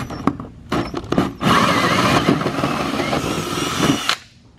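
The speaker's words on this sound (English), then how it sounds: "drill a hole in that daggone thing" A power drill bores a hole in the body of a budget drift car: a few short bursts of whining motor at first, then one loud sustained grinding run through metal that stops abruptly.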